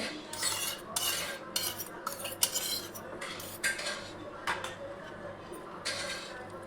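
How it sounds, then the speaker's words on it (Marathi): A spoon stirring beetroot and carrot salad with curd in a bowl, repeated close metallic clinks and scrapes in an uneven rhythm over a quiet background. "त्याला छान खालीवर मिक्स करून घ्यायचं"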